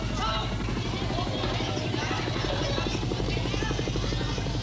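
Military helicopters at the U.S. embassy during the Vietnam War evacuation, a loud, steady rotor chop with a continuous engine drone and a crowd murmuring underneath.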